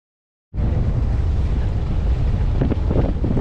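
Boat ride on the water near Bur Dubai, a steady loud rush of wind and engine noise that starts abruptly and holds constant, with no talk.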